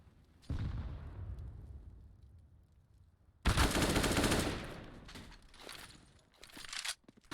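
Gunfire in the video game CS:GO during an ESL Challenger League match, two sharp bursts of shots each trailing off, the second longer and followed by a few scattered pops, with no talk.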